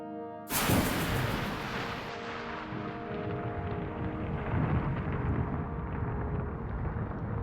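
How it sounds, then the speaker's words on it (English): A sudden loud crack of lightning striking a rocket launch pad during a building thunderstorm over the Florida Panhandle, followed by a long, steady rolling rumble that fills the rest of the clip, with no voices. "As storms build over the Florida Panhandle, lightning strikes the launch pad."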